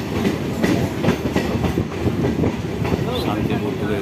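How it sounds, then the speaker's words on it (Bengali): A train pulls into Shantipur station, loud close clatter of wheels over rail joints in an uneven rhythm with rumbling carriages, while a voice speaks over it. "শান্তিপুর স্টেশন ট্রেন ঢুকছে"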